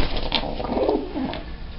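Soft, low pigeon cooing in a quiet indoor space, a short throaty warble rising and fading.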